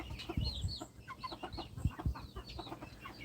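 Young chickens clucking and peeping in a duck pen, a scatter of soft calls and chirps close by, with a few louder low clucks and a quiet background.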